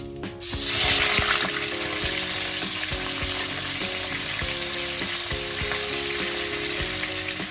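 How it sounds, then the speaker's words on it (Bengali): Marinated chicken drops into hot oil spiced with cardamom, cloves, cinnamon and bay leaves, setting off a loud, steady sizzle that swells at the start and keeps crackling over a faint tonal background. "ম্যারিনেট করা চিকেনটাকে এর মধ্যে দিয়ে নিচ্ছি।"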